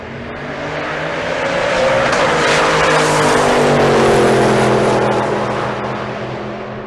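Drag race cars, including a 1967 Mustang fastback, launching down the strip, their engines swelling into a loud, rising roar with sweeping pitch that peaks near the middle and fades slightly as they pull away.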